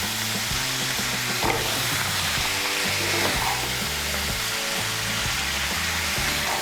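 Five or six slit green chilies fry and get stirred in a hot pan, a loud, continuous hissing sizzle that stays steady throughout, with music playing underneath.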